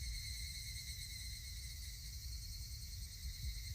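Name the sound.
cicadas chirping, from a video game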